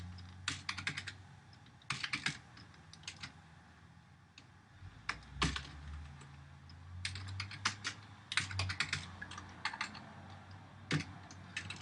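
Someone types on a computer keyboard in irregular bursts of quick, fairly quiet key clicks with short pauses between them, and no one speaks.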